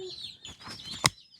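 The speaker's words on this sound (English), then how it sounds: "Reese Peasy, do you love your baby chickens?" High, thin peeping chirps of baby chicks, close by, with a sharp click partway through and soft rustling.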